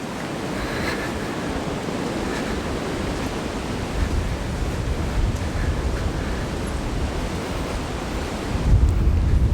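Wind blows continuously across an outdoor walking trail in the English Cotswolds, a broad rushing roar with gusts that strengthen near the end, heard alone.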